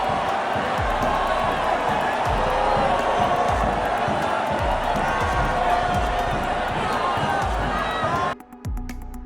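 An Indonesian stadium crowd roars after the first goal against China, a loud sustained wall of cheering with rhythmic chanting and drum thumps, cutting off abruptly near the end.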